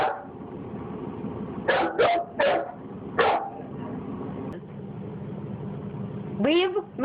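A dog barks close by in short, sharp bursts: a quick cluster of yaps, then one more, and a final bark after a pause, with a person talking in between.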